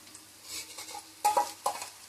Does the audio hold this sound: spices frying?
yes